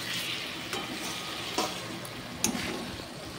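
Spice masala being stirred and fried in oil for a fresh pond catla fish curry, a close steady sizzle with a few scraping spatula strokes and one sharp clink, no talking.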